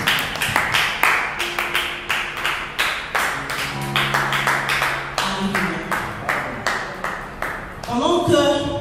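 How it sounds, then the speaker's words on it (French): A church congregation claps in a steady, rhythmic beat, a crisp run of hand claps lasting throughout, with a few voices or tones sounding underneath toward the end. "Acclamons pour la parole du Seigneur."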